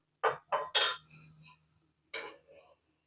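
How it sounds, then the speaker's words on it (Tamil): A frying pan set onto a stove gives a quick series of close metallic clanks and knocks, three in rapid succession, then a pause and one more clank with a faint ringing tail. "ஒரு ஃப்ரை பேன் அடுப்பில் வச்சுக்கலாம்"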